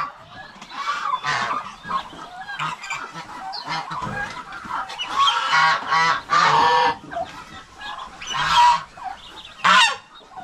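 Farm fowl, including ducks, calling close by in loud, harsh bursts of honking and cackling, with irregular pauses between calls.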